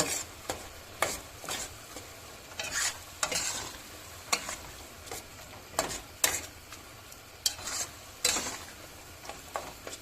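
A spoon scrapes rhythmically around a pan over a steady sizzle of spices frying, with the clinks of stirring recurring every second or so.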